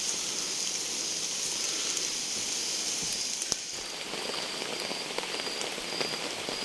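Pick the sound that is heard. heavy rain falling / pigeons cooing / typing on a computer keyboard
heavy rain falling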